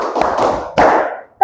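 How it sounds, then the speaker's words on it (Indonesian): A classroom group does the 'clap five' hand-clapping routine, producing a few loud, close bursts of claps in a quick pattern, with no talk. "tepuk 5"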